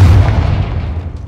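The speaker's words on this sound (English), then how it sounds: "Confringo!" A Confringo explosive spell cast in the video game Hogwarts Legacy, heard as one loud, close, deep booming blast that fades away over about a second.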